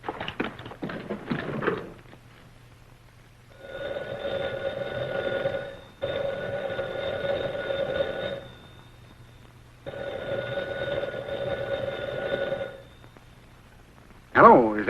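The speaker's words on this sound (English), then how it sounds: "It rang, and I took off the receiver unthinkingly" An old-fashioned telephone bell rings in three long bursts of about two to three seconds each, separated by short pauses, loud and close, with a voice talking briefly before the rings and again at the end.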